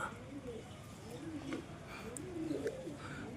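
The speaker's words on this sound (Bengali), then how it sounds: "আর একটা কবুতর কালেকশন করেছে" A female pigeon bought at a market coos softly in several low, rolling phrases, faint and close, with little else around it.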